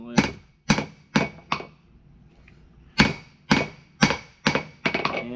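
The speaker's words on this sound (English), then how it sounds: "But there's still a lot of hammering left." A hammer strikes hot steel while a patch knife is forged, sharp ringing blows in two groups: four evenly spaced hits, a short pause, then five more quick strikes, close and loud.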